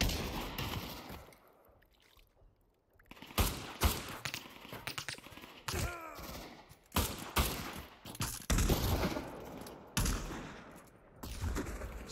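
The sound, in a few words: gunfire from a gun in the video game Pavlov VR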